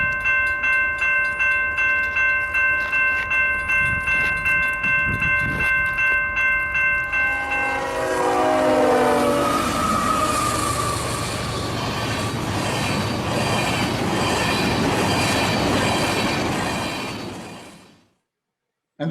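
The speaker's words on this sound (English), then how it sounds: "a train was approaching. A normal train pulling fuel," A train pulling large fuel tanker cars approaches with a horn-like tone and rhythmic clacking, then wheels screech and squeal loudly as it rolls past before the sound cuts off.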